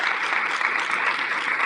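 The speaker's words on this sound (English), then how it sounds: "So a round of applause for all the PTA people." Audience at a PTA council meeting applauding: steady, dense clapping throughout the short stretch, with no voices over it.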